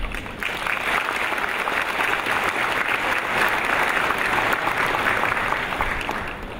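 A large audience at a formal assembly marking Krasnoyarsk's city birthday fills the hall with sustained, even applause that holds steady for over six seconds.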